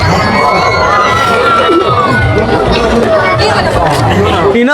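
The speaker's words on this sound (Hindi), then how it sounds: "इना तो बहुत भीड़ है" A dense crowd chatters at the consecration festival of Sri Bishweshwar Mahadev Shiva temple in Saranda, producing a loud, constant babble of many overlapping voices with occasional shouts and children's cries nearby.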